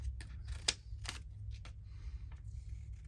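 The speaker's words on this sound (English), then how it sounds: "These might be a bit big, but let's just cut them out." Paper pieces being cut out with scissors for an ephemera craft project, a handful of close, quick snips and a rustle of paper, fairly quiet.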